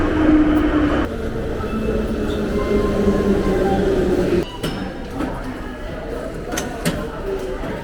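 Tbilisi metro train running underground, heard as a rumbling rolling drone with metallic clinks and squeals, growing quieter partway through as the ride continues, without talk.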